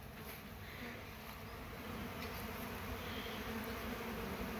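Bees swarm and hover close by outdoors around a home, a continuous dense buzzing drone with no voices.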